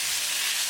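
Italian-style meatballs sizzle steadily in a hot pan as they are stirred, a brief, even hiss with no voices.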